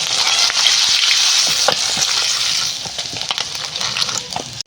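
Banana flower fries in hot oil in a pan over a wood fire, a loud, close, bubbling sizzle with stirring clatter and crackles, continuous throughout.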